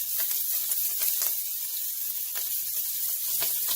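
Shrimp sear in a hot pan for shrimp pasta, giving a steady, close, bright sizzle with faint pops and crackles scattered through it, and no talking.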